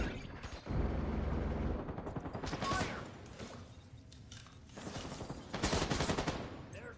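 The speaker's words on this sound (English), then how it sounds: "And then they just blind fire" Enemy blind fire in The Division 2: rapid bursts of automatic gunfire crackle loudly in uneven volleys, pausing briefly before resuming, with a voice faintly underneath.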